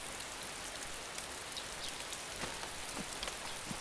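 Steady outdoor rain falling through the night, a dense continuous hiss with scattered individual drops tapping nearby surfaces, even in level and without voices.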